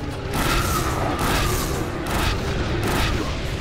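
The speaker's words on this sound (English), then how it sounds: "Take it in! Bombardment now!" Artillery bombardment from The Bureau: XCOM Declassified booms repeatedly, a dense series of heavy, rumbling explosions pulsing roughly every second, loud and close with faint voices mixed in.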